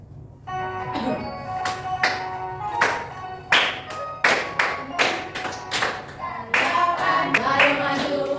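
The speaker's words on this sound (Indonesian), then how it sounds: "Kita nyanyi dengan semangat dan tepuk tangan." Children clap their hands in a steady rhythmic beat while singing together with energy in a classroom, a run of sharp, close claps under the voices that grows fuller toward the end.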